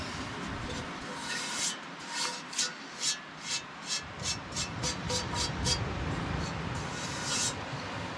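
Old residue is scraped off a small cast iron pan inside a troopy van, a close run of rhythmic rasping strokes over a steady background hiss, with no voices.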